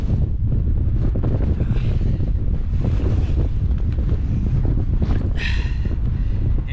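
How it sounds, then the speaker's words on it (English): Strong wind buffets the microphone at a solo wild camp on a blustery winter evening, a loud continuous roar with gusting rumble and no speech. "It is a little bit windy, mind,"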